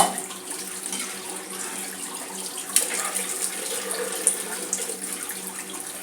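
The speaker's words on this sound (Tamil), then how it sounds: "தேவையான அளவு தண்ணி சேர்க்குறேன்" Water pours into a pot of tamarind fish curry in a steady, moderately loud stream, with no talking.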